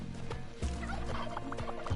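Turkeys gobbling in the video game Spelunky 2, several loud rattling gobbles in quick succession over a busy game backdrop of steps and music.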